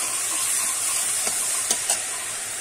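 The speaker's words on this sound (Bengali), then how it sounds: "এখানে আছে আদা বাটা, সেটা কিন্তু দিয়ে দিলাম। একটু আমি নেড়ে চেড়ে নেব" Ginger paste frying in a pan gives a steady, even sizzle and hiss, broken by a few faint clicks of stirring near the end.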